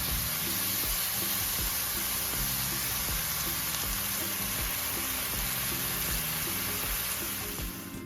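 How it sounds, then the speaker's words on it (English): Bacon frying in a pan for cowboy cookies, a steady loud sizzle and crackle with dense popping, close up and uninterrupted throughout. "So just gonna fry this up and then we'll go to the next step."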